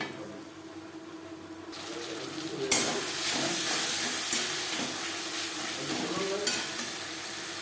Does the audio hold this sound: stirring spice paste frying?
yes